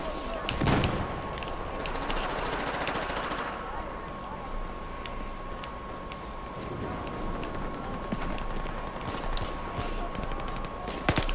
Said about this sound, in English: Oh my goodness, I'm getting shot at.